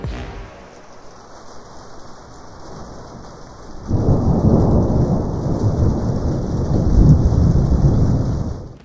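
Rain falls steadily during a lightning storm, then heavy rolling thunder breaks in partway through and rumbles loudly to the end, with no voices.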